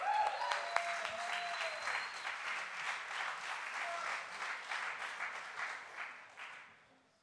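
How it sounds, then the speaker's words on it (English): Sustained round of applause from a conference audience at the Skoll World Forum, dense crowd clapping holding steady for several seconds before tapering off. "please keep the round of applause going for Dr."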